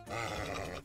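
A horse in the Minecraft video game gives a short, close groaning neigh lasting under a second, a single throaty snort-like call on its own.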